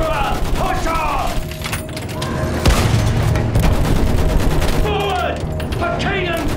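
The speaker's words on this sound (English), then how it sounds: "Use that machine gun! Mow them down!" Sustained machine gun fire and a dense fusillade in the Battlefield 1 World War I trench battle, loud and continuous throughout, with booming explosions and shouted voices mixed into the battle din.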